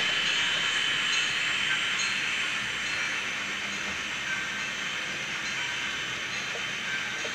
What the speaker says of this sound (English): Here comes the Union Pacific again. And it's a passenger train